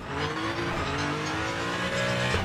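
Race cars in the Le Mans Ultimate racing game, with GTE-class cars passing under full throttle: a loud, dense roar of engines revving hard, with a hint of tyre squeal over a continuous rush.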